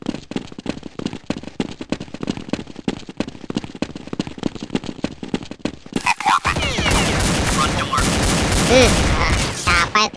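Gunfire in Counter-Strike: Condition Zero: a long run of rapid, evenly spaced close shots in steady bursts, then a dense wash of layered firing and explosions, with a player's voice over the top.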